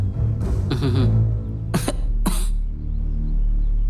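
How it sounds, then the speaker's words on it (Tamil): A few sharp, close coughs, two distinct bursts following a rough throat sound, loud and nearby. "காலையிலேருந்து ஒரே இருமல்."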